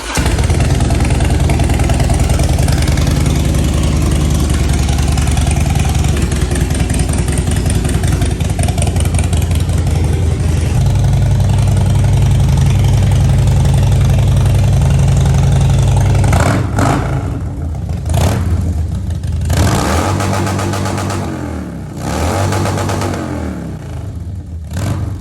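A Harley-Davidson FXDX engine with a Thundermax tune idles loud and close with a steady, throbbing rumble, then breaks into a few short revs near the end.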